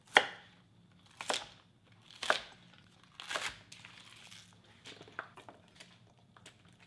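Knife chopping five green onions crosswise into pieces on a cutting board for water kimchi: a few sharp, separated cuts with pauses between them, then softer, lighter taps toward the end, with no talking.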